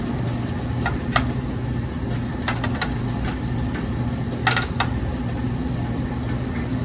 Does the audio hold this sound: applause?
no